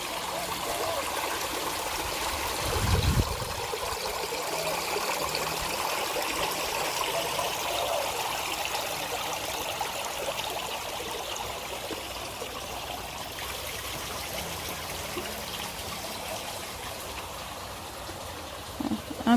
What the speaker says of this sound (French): On entend les fontaines couler de part et d'autre.